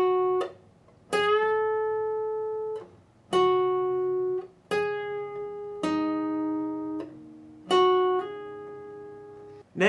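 A slow guitar phrase: several distinct notes picked one after another with pauses between, each ringing and decaying, some bending or sliding between pitches.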